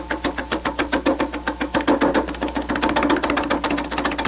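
Cherry wood spinning on a wood lathe under a turning tool, a loud, close, steady rhythmic whirring thump repeating rapidly, with the cutting growing slightly rougher partway through and no voices.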